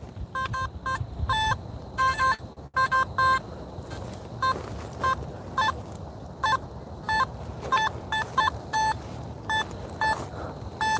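Short electronic metal detector tones sound in quick irregular bursts during a night coin hunt, over a low rumbling background, fairly faint.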